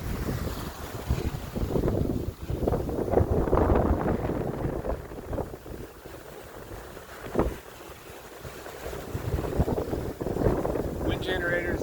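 Strong wind roars and buffets across a sailboat at sea off Southern California, with surging gusts and ocean wash over a continuous rumble and a brief sharp knock midway.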